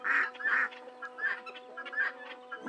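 Several ducks quack in short bright bursts as they are let out, calling on and off in loose groups near the listener, with steady background hum and nearby chickens.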